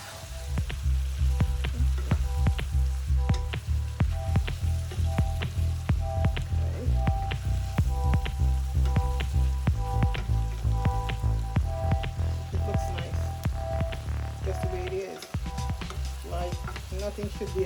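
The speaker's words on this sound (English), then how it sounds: "Add my codfish and stir it around." Codfish stirred in a hot cooking pot while steaming cabbage with salt fish, with a steady loud sizzle and frying crackle throughout and the clatter of a spoon scraping against the pot.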